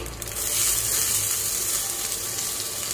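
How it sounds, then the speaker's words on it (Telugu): Cumin, mustard seeds and urad dal frying in hot oil, giving a steady close sizzle with a faint hiss throughout and no voices. "1/2 టేబుల్ స్పూన్ జీరా, 1/2 టేబుల్ స్పూన్ ఆవాలు, 1/2 టేబుల్ స్పూన్ మినపప్పు వేయించుకోవాలి"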